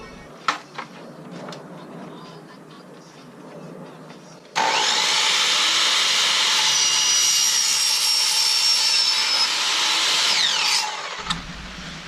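A part is cut out in a workshop with a loud power tool that runs as a steady, harsh whine for about seven seconds. Quieter knocks and handling noises come before it, and the tool then stops abruptly.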